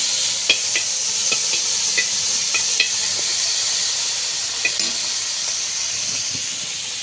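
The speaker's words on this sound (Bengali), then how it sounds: "শুটকি মাছগুলো ভেজে নিচ্ছি।" Dried fish (shutki) fries in oil in a pan with a steady, bright sizzling hiss, punctuated by sharp spatters and occasional clicks of a spatula stirring.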